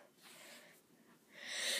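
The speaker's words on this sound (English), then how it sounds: "I'm gonna sneeze." A single human sneeze, quiet and close, with a soft intake of breath before it and a sharper burst of breathy noise at the end, heard alone without talk.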